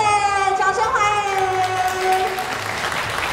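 Applause from an audience greeting a judge at an otaku glow-stick dance competition, a continuous wash of clapping and crowd noise under an announcer's voice.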